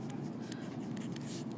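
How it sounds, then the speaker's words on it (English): Pen writing notes by hand during a nervous system lecture, quiet scratchy strokes in short bursts, close and soft. "I'm going to write here that it occurs"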